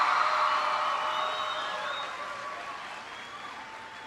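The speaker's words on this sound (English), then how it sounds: "Give yourselves a big round of applause." Students applaud at a school event, loud clapping from a crowd that peaks at the start and then tapers off gradually over a few seconds.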